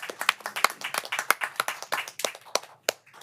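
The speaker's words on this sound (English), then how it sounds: "let's do a round of applause for Tracy Rossi" A small group at a committee meeting claps in a brief, uneven round of applause, with individual sharp hand claps that stay distinct and close, thinning out toward the end.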